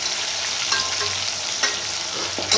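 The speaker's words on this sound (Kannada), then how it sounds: "ನೋಡಿ, ಈಗ ಫ್ರೈ ಆಗ್ತಾಯಿದೆ ಇದು." Food frying steadily in a hot pan with broad, constant sizzling and a few small crackles and pops, close by and with no voices over it.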